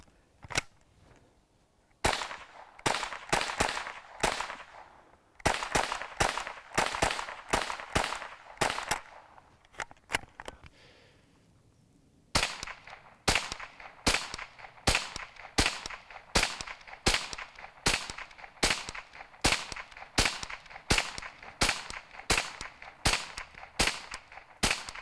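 A G.S.G. STG44 rifle fires at an outdoor range. Sharp, crisp shots come in quick semi-automatic strings, broken by short pauses, then a long steady run of rapid cracks. The shots are close and fairly loud, and no one speaks.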